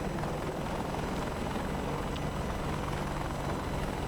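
A helicopter in a flight simulator game drones with a loud, dense rotor and engine roar, steady and close throughout without any talk.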